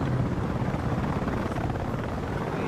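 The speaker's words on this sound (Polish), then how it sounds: "Śmigłowcu bojowym." An attack helicopter in the video game Battlefield Play4Free gives a steady, loud, broadband rotor and engine roar that fills the whole stretch without a break.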